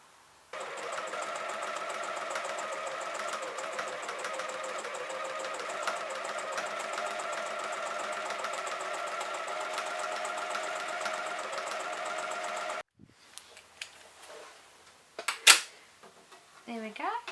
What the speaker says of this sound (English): We're now going to start sewing some lines onto the brim.